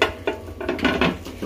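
Bacon and eggs cooking together in a frying pan without oil, heard as a series of short clattering and sizzling bursts close by, with scraping movement and no speech.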